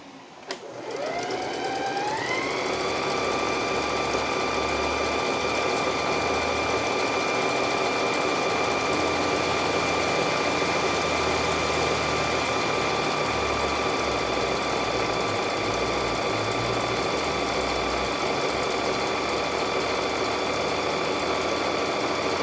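A sewing machine stitches a flat-felled seam, its motor spinning up within the first two seconds into a steady, loud, continuous whir that runs unbroken to the end with no talking.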